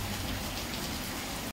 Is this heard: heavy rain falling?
yes